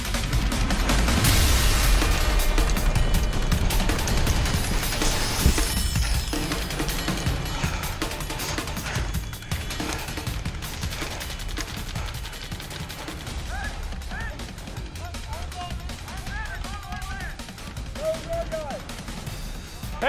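Gunfire during an infantry assault on sand bunkers in the military video game Squad, with dense bursts of rifle and machine-gun fire and loud blasts early, thinning to scattered shots under shouted team radio chatter.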